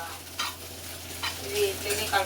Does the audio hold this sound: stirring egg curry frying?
yes